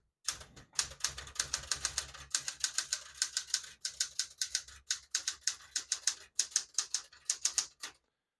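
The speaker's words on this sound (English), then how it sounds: "Beautiful typing machine." A 1974 Smith-Corona Galaxie Twelve portable typewriter typing alone: a steady run of crisp, close key strikes in an even rhythm, with brief pauses between bursts.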